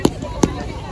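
Bonfire night fireworks going up with sharp bangs, three loud pops spaced through a brief moment with a noisy outdoor background between them.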